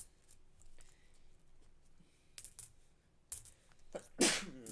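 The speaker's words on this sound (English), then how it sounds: "I can sneeze like 30 times in a row sometimes" A person sneezes once, sharp and close, after a few quiet clicks and coin clinks during coin roll hunting at a table.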